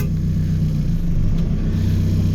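A car engine idles at high rpm with a constant low rumble and humming harmonics, sounding close and continuous throughout.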